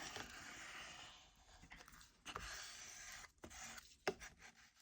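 A scraper spreads glue across an old book cover, making close, faint scratchy rubbing strokes in uneven bursts with a few sharper scrapes and short pauses, and no talking.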